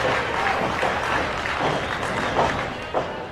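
An indie pro wrestling crowd at a live show cheers and claps in a dense, continuous wash of noise, with a few louder bursts.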